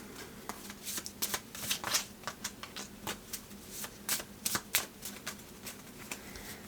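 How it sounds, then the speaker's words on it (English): Playing cards being shuffled close up, a run of quick crisp riffles and flicks in uneven bursts, with no talking. "Let's give them a good shuffle."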